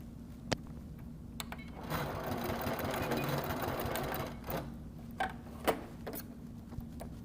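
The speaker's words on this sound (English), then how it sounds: "I'm going to sew directly on the back of the binding here." Domestic sewing machine stitching along the back of a quilt binding for a Halloween vest, a steady whirring run of stitches with brief stop-start bursts at either end for the backstitch, close and clear.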